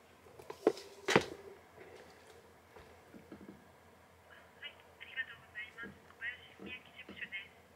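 A phone call rings through to a political party's local branch office, with a repeating ringback tone in short bursts heard faintly over the line after some clatter and handling noise.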